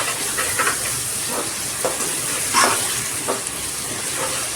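Chopped tomatoes fry with onions in a pan for Ambur-style chicken biryani, making a close, steady sizzle with scattered small pops and crackles and no voices.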